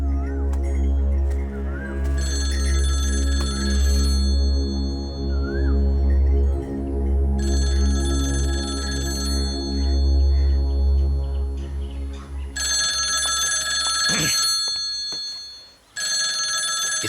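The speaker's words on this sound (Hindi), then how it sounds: "इस वक्त कौन फोन कर रहा है?" A telephone ringing in a dubbed South Indian action movie scene, repeated bright electronic ring bursts over a heavy low musical drone, loudest near the end before a brief cut.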